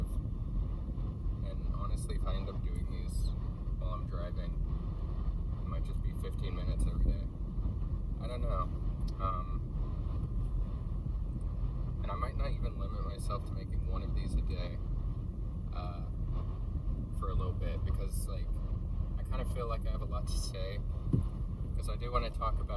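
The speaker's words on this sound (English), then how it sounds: "So yeah, I'm just doing my daily commute. It's like a 15-minute drive." Car interior on a 15-minute daily commute: a low, steady road and engine rumble runs throughout at moderate level, with a person talking over it.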